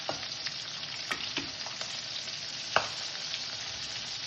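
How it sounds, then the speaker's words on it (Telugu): Dried red chillies fry in a pan with a steady hiss of oil. A few sharp pops and scrapes of stirring break through, close and moderately loud, and no one speaks. "ఇలా వేయించుకుందాం."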